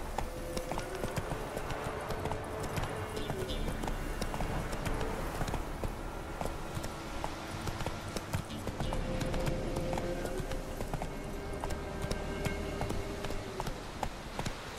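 A horse gallops in The Witcher 3, its hooves clip-clopping in a steady, fast beat for the whole stretch under a low bed of game music and ambience.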